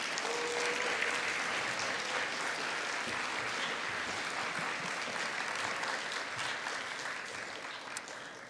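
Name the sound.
congregation applause welcoming speaker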